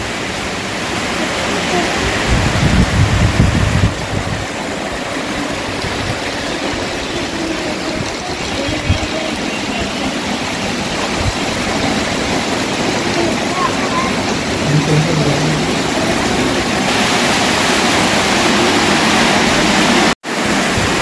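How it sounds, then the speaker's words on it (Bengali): Heavy rain pours down during a storm, a dense, steady hiss that stays loud and unbroken throughout, with a faint lower rumble underneath. "বাইরে প্রচণ্ড মেঘ করে ঝড় হচ্ছে, মেঘ করেছে, প্রচণ্ড বৃষ্টি হচ্ছে"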